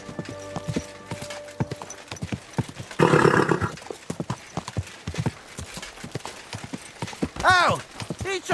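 Horse hooves clip-clopping in Kingdom Come Deliverance 2, a brisk run of close, sharp hoofbeats with a burst of rushing noise and a horse whinny near the end, over faint background game sounds.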